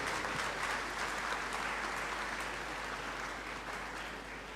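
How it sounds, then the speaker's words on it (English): Graduation ceremony audience in a great hall applauds in a steady, distant wash of clapping that fades slightly toward the end, heard alone without talk. "Another round of applause for."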